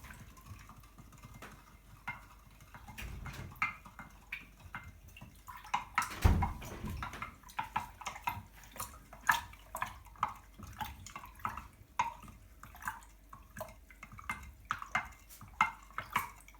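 A wooden utensil stirs kefir water in a container, giving a faint series of wet clicks and gentle sloshes, close and quiet, with one louder knock partway through.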